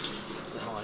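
Brine from a salt spring boiling in a metal tray set over a hot wood fire in a high mountain village, a steady close bubbling and seething hiss with no breaks, heard alone for under a second.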